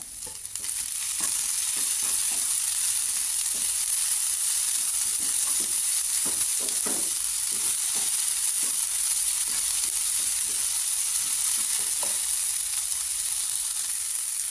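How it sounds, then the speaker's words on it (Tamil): Capsicum, tomato and Chinese spring onion sauté in a hot pan, a loud, steady sizzle that never lets up, with soft stirring scrapes ticking through it and no voices. "கேப்சிகம், தக்காளி, அதுக்கப்புறம் சைனீஸ் ஸ்ப்ரிங் ஆனியன் போட்டு நல்லா வதக்கிக்கோங்க"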